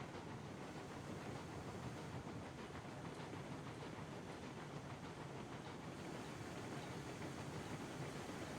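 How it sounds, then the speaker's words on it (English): Train cars in the Railroads Online video game rolling and coasting into a siding, a steady broadband rumble and rattle held at an even level throughout. "Watch these cars behind me as they come into the siding."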